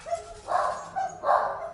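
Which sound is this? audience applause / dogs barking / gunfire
dogs barking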